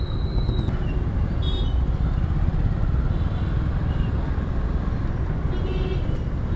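Heavy Pune road traffic churns steadily with engines and motorbikes close by, several short horn toots popping out over the continuous roar.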